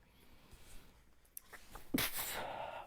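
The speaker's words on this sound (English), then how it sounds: "I gotta sneeze again." A single sneeze bursts out close and loud near the end, preceded by a brief wind-up inhale in a quiet room.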